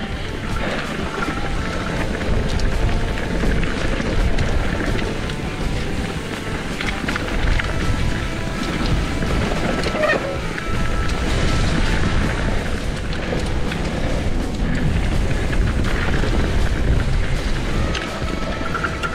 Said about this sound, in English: Wow, so windy.